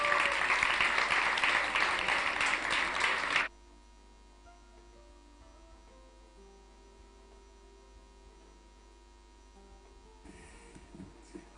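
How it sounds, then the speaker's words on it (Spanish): Loud, dense applause from an audience at a youth awards ceremony in Navarra, lasting a few seconds before cutting off to a quiet room hum, with faint stirring near the end. "Un fuerte aplauso para él, por favor"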